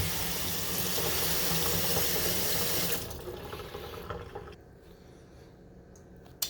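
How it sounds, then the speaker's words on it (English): Basil and rosemary are rinsed under a running kitchen tap, water splashing steadily into the sink before the flow cuts off and leaves faint drips and a final clunk. "So after I wash all of this, I'll start putting it in the bottles."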